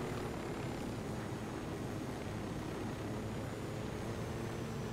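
A helicopter in Ghost Recon Wildlands whirs as a steady, even drone with broad noise and no speech, constant in level across the whole stretch.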